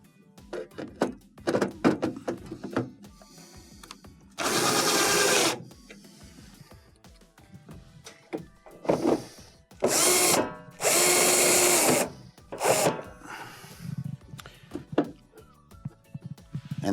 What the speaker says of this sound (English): And we'll install our two number 2 Phillips screws.